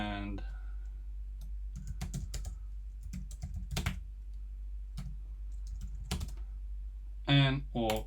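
Computer keyboard typing in quiet, scattered bursts of close keystrokes with pauses between, plus a louder click near the end.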